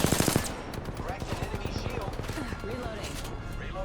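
Video game gunfire played with a pro-style controller, with rapid bursts of shots close up at the start and then sparser pops, while a player talks over it.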